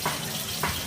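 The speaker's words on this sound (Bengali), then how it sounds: "দিয়ে দিচ্ছি জল।" Water pours into a cooking pot in a village kitchen, a brief close splashing gush with a second short burst near the end.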